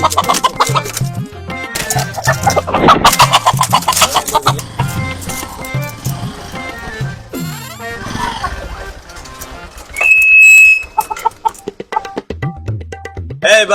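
Chickens cluck at a busy poultry seller's stall amid loud, crowded market noise, with people talking over the birds throughout and a brief sharp electronic tone partway through.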